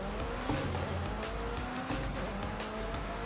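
A modded McLaren 650S GT3 race car drives in Forza Horizon 5, its engine droning steadily and loud throughout with tire noise and short bumps, no talking.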